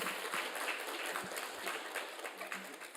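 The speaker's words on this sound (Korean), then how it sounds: "다시 한번 큰 박수로." A church congregation at a Sunday worship service applauds: dense, steady clapping that fills the space from start to finish, moderately loud, with no voice over it.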